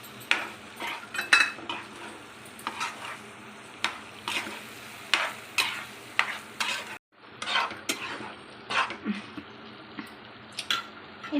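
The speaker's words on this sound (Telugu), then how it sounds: "పన్నీర్ యాడ్ చేసుకొని కొంచెం మిక్స్ చేసేసుకుందాం." A spoon scrapes and clinks against a pan in repeated short strokes as paneer bhurji is stirred, with a faint sizzle underneath, close and fairly quiet.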